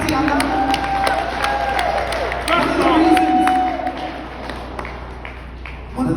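A gathering cheers and claps for a singer, scattered hand claps and whoops over a murmuring crowd, moderately loud and close, with music or voices faintly underneath.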